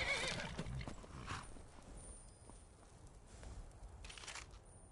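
A horse neighs near the start in Skyrim, followed by hoof clopping and scattered game sound effects, all fairly quiet.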